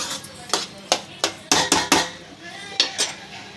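A metal spoon scrapes and clinks against a pan while stirring moong dal with melting jaggery for sweet palamunjulu, about ten sharp knocks in an uneven rhythm, close and clear with no talk.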